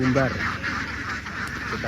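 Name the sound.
ducks quacking after release from the pen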